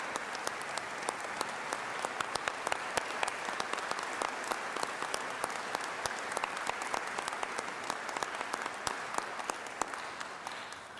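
Sustained applause from a large audience at a high school commencement ceremony fills the space, a dense even wash of many hands clapping with no voices on top.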